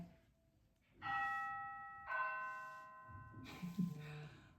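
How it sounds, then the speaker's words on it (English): A doorbell chimes twice, clear ringing tones a second apart, followed by a faint distant knock or clatter in an otherwise quiet room. "Someone just rang my doorbell."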